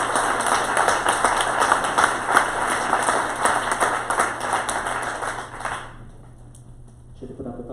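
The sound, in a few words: audience applause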